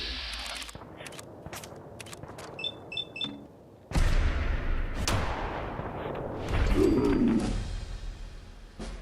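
Gunfire in the video game Fallout 4: several sharp shots and heavy booming blasts, with one loud burst cutting in midway, over beeping and chirping game sounds.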